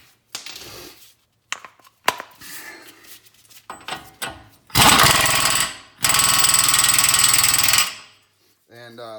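A hub nut (36 mm) is torqued on the front axle of a 2008 Honda Accord 4-cylinder: scattered metallic tool clinks and knocks, then two long, loud rattling power-tool bursts back to back, and a brief buzzing rattle at the end.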